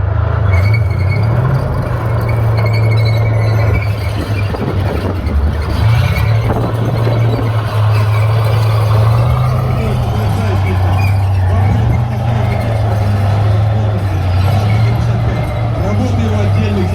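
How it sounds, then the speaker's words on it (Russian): A T-55 tank drives and maneuvers at a tank show in Kubinka, its diesel engine giving a loud, heavy low drone that rises and falls with throttle changes, with track clatter beneath and someone speaking over it. "даже на этом ограниченном пространстве экипаж демонстрирует прекрасную маневренность боевой машины"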